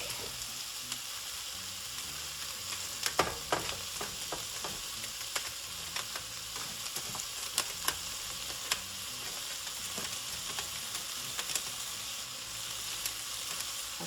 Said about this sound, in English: I'm going to add my garlic.